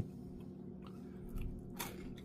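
Crunching on a crouton while eating during an Easter dinner of Costco pork rib roast: a few sharp, close bites and chews over a steady low hum, with one brighter crunch near the end.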